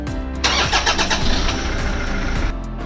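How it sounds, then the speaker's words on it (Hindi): Car engine cranking briefly and then catching, settling into a loud, close, steady idle with no one talking. "सबसे पहले तो आप अपनी गाड़ी स्टार्ट कर लें"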